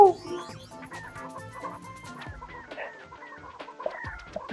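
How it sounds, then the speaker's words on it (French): Chickens cluck in a Ratchet & Clank employee break room at Gadgetron, a busy run of short clucks and squawks layered over game music and effects. "Oh, ils exploitent des poules!"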